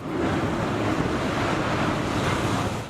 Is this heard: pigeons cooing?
no